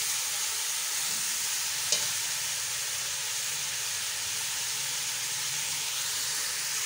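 Desi chicken pieces are sautéed (bhuna) in a pot, sending up a loud, continuous close sizzle and hiss, broken once by a brief clink of a utensil.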